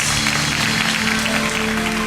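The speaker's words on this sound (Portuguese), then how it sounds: "aplauda a Jesus, que Ele merece" Applause from a church congregation during a worship service, a dense continuous wash of clapping that holds steady and fairly loud for the whole stretch, with a sustained musical tone underneath.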